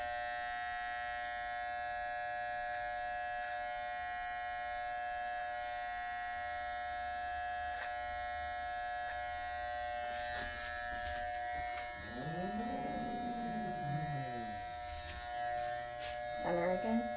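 Electric hair clippers hum steadily and close during a military bald-fade haircut, a constant buzzing drone that wavers in pitch near the end as the blade meets hair.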